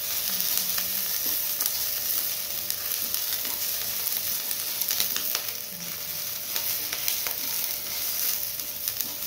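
Garlic, ginger and chili frying in a pan for restaurant-style chole: a steady, bright sizzle with crackling pops and occasional stirring scrapes, close and continuous throughout, no voices.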